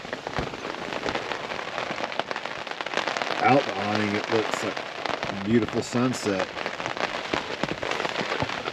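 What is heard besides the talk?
rain falling on a camp awning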